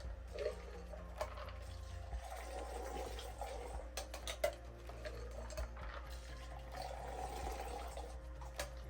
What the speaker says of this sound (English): gonna aerate this cocktail